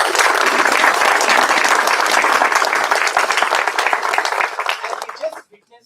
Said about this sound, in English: please join me in a warm round of applause for our dignitaries.